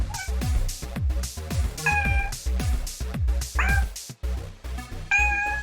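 A cat meows repeatedly at close range, loud and insistent, with several drawn-out meows coming in quick succession over a low background hum during a gaming stream.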